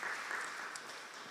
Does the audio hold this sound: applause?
yes